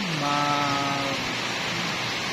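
Heavy monsoon rain pours steadily in a flooded area, a loud continuous hiss of falling water with a brief tonal hum near the start.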